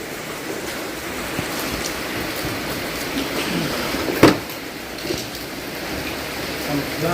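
Steady rain falls through the night, a constant hiss with a brief louder clatter partway through; low voices can be heard faintly under the downpour.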